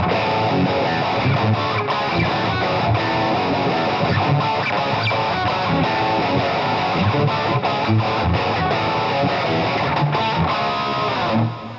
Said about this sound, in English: Let's see what kind of overdrive sounds we can get real quick.